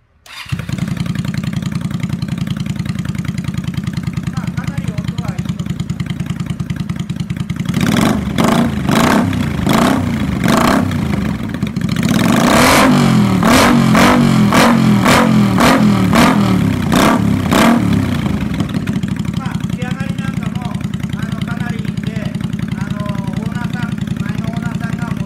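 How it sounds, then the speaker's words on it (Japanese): A motorcycle engine, on a bike to be converted into a trike, idles steadily up close, then revs in a series of sharp throttle blips before settling back to a rumbling idle. "ちょっとエンジン音だけ"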